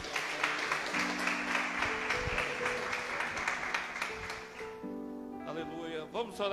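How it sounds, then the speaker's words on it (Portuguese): A congregation applauds at a Christian worship service held in a garage, with scattered clapping running under sustained singing or musical tones before thinning into quieter sounds near the end. "Você pode aplaudir a Jesus mais uma vez?"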